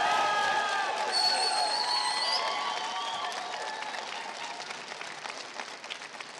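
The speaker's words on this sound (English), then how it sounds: "So, significant applause there for John Finucane making his speech." A large crowd at a Belfast election count claps and cheers after John Finucane's 2019 general election speech, loud at first and slowly fading, with faint voices in the mix.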